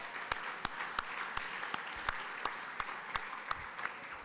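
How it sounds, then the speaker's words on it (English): Audience applause after a moving live performance at a plenary session, a steady wash of many hands clapping, fairly loud and close, with sharper individual claps standing out throughout. "Let's give him another round of applause."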